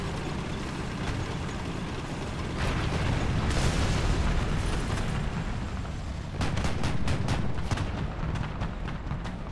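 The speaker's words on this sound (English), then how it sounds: "What is he shooting at?" Tank cannon fire and booming explosions in War Thunder combat, repeated heavy blasts and rumbling over a dense battle din, with clustered rapid shots near the end and no speech.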